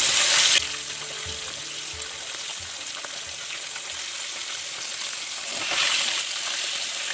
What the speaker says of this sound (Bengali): এবং মাছটিকে না একটু ভালো করেই ভেজে তুলতে হবে।